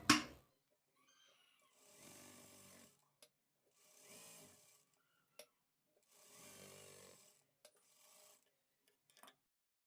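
A sewing machine stitches the lining of a chudidar top in three separate whirring runs, each a steady motorized hum lasting a second or so, with short clicks and a sharp bump between the bursts.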